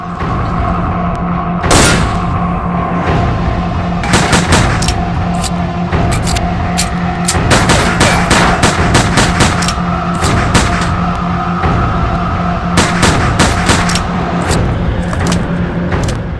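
Rapid bursts of gunfire from the STALKER game engine's weapon physics demo, shown at GDC 2004: repeated volleys of sharp loud shots in clusters over a steady engine-like hum, with no talking.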